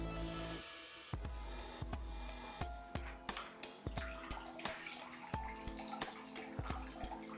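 Water pours steadily from an unscrewed bottle set up as a small homemade drinking-water cooler, running continuously with repeated sharp drips and splashes throughout, close and fairly quiet, with no voices.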